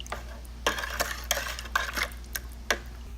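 Firethorn berry wine must with five cups of sugar being stirred in a pot, giving several distinct scraping and clinking strokes at an uneven pace, close by and fairly quiet over a low steady hum.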